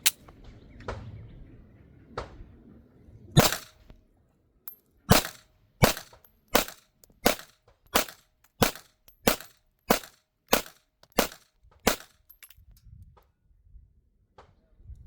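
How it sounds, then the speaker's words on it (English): A Smith & Wesson BodyGuard 2.0 Performance Center Carry Comp pistol fires 100-grain round nose flat point rounds from a 12-round magazine outdoors, a couple of early shots then a rapid, evenly spaced string of about a dozen loud, sharp cracks. "let's see how the 12 round magazine performs."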